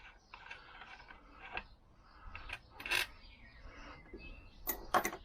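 Nut being undone with a spanner on a Lambretta scooter during a hydraulic upgrade: faint, scattered metallic clicks and scrapes at irregular intervals, quiet and close, with no talking.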